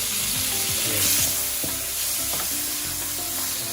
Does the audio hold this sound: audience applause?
no